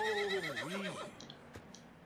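An agitated horse in the Red Dead Redemption 2 video game lets out a loud, close whinny that falls and wavers over about a second, then dies away. A few faint clicks and soft noises follow.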